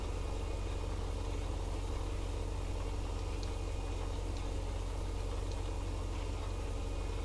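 A low, steady engine drone from a tractor climbing a hill under load in Farming Simulator 17 during a soybean harvest, constant and even with faint ticking over it, no talking.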